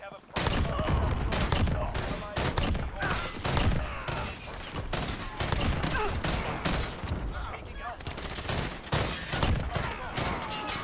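Dense, rapid FAMAS gunfire in Call of Duty: Modern Warfare, loud and close, firing in nearly continuous bursts with brief gaps, while a voice talks over the shots.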